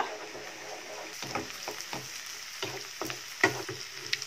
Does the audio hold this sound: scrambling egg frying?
yes